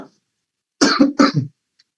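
Two quick, harsh coughs close to the mic, surrounded by silence.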